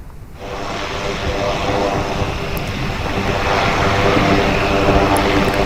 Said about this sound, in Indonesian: Pesawat Angkatan Udara Amerika Serikat USAF C-130 Hercules dan pesawat pembom B-1 Lancer terlihat di pangkalan Angkatan Udara militer Inggris.